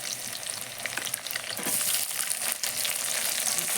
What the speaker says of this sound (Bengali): পেঁয়াজটাকে একটু ভালোভাবে ভেজে নিতে হবে, একটু লাল লালভাবে ভাজতে হবে।